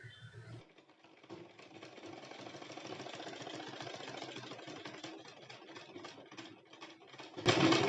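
A sewing machine stitches a kurti in one continuous whirring run of rapid, even needle clatter for several seconds, fairly quiet and close, before stopping.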